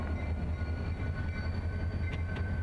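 Keokuk Junction Railway GP-20 locomotives pass close by, a deep steady diesel rumble with rail noise and a few metallic clanks near the end.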